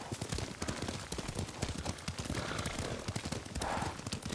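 In the video game Ghost of Tsushima, a ridden horse's hooves beat in a steady, rapid rhythm, with a continuous clip-clop under a busy wash of background sound throughout.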